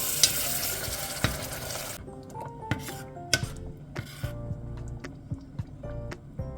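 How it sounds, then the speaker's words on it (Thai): Curry paste with coconut cream stir-fried in a pan for a Thai southern-style curry, with a loud sizzle at first that drops away, then steady scraping and clinking of a spatula against the pan. "ใส่หัวกะทิลงไปนะคะ จากนั้นก็ผัดต่อเล็กน้อยค่ะ"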